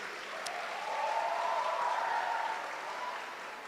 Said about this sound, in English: Can we have a round of applause for both the candidates?